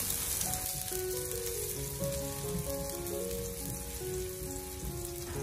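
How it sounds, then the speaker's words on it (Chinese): Chopped scallion and garlic stir-fry over low heat in a wok, producing a steady, fairly quiet sizzle and crackle of hot oil with no voices. "重新起锅，下切好的葱蒜，用小火翻炒一小会，"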